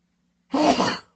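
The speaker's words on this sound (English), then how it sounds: "Excuse me, I'm going to sneeze." A single sharp sneeze bursts out close by after a moment of silence, then fades quickly.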